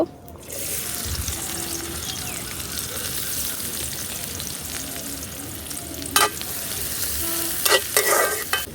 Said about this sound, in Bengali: আমার শুকনো মরিচ ভাজা হয়ে গেছে, এখন এখানে পেঁয়াজ দিয়ে দিব।